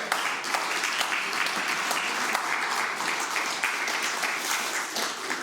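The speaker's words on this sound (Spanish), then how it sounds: "Dele palmas al Señor." A church congregation applauds, a steady wall of many hands clapping, loud and close, sustained for several seconds with no pause.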